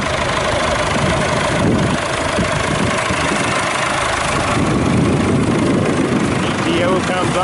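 A 1975 Massey Ferguson 275 diesel tractor engine idles loudly and close, with a steady chugging rumble that continues throughout.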